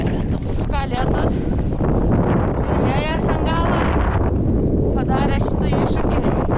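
Strong wind buffets the microphone of a cyclist riding against a headwind on a long road ride, a loud steady roar that masks much else. A person talks over the rushing air.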